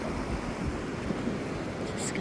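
Ocean waves breaking below a steep rocky point at Bremer Bay: a constant broad wash of surf mixed with gusty wind noise, with no clear individual wave breaks.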